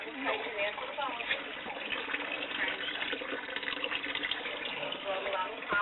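Water pours steadily from a bucket under a car at a mobile pet grooming van, a continuous splashing gush that stays close and even, while people talk nearby.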